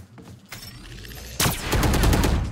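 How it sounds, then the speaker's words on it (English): Video game gunfire fired at a grenade comes first as a few scattered shots, then turns into a sudden loud burst of rapid, dense firing that carries on to the end. "you started shooting the grenade"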